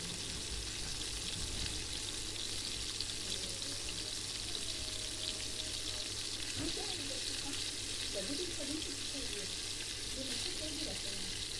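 Small cut potato pieces frying in spiced masala for an aloo anday curry, a steady soft sizzle with faint stirring throughout, fairly quiet and continuous.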